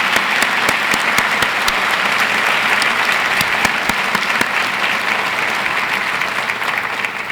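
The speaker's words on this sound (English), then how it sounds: "Please join me in applauding these individuals for their commitment to excellence in and out of the classroom" An audience at a university State of the University address claps steadily and loudly for honored students, a dense, even wash of hands that keeps going for several seconds and eases slightly near the end.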